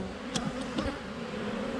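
Honey bees buzz around their hive, a dense close-up drone with individual bees flitting past the ear for a couple of seconds.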